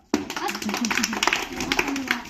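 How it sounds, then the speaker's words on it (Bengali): A small group claps hands after a children's game, starting abruptly and continuing as uneven close-up clapping, with a voice talking over it. "সবাই হাততালি দাও।"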